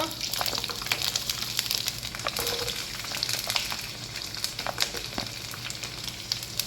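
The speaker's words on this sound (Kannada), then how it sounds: "ಅದು ಚಟಪಟ ಸಿಡಿಯೋ ತನಕ ಹಾಗೆ ಬಿಡಿ." Mustard seeds splutter in hot oil for mango pickle, giving a dense close-up sizzle packed with sharp, irregular crackles and pops that keep coming throughout, with faint voices now and then.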